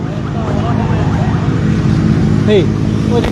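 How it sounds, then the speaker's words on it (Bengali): Fire service vehicles drive on the road toward a fire at Hazrat Shahjalal International Airport, with a steady loud traffic and engine rumble throughout and a brief rising siren-like tone near the end. "ঠিক এইভাবে কিন্তু অগ্নি নির্বাপন কাজে যাচ্ছে ফায়ার সার্ভিস"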